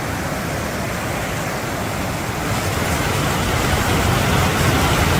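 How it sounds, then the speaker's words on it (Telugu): The Kali Gandaki river in Nepal rushes steadily in the evening as a continuous broadband roar of flowing water, close and loud, swelling slightly toward the end, with no voices. "గలగల పారుతుంది కాళీగండకి నది."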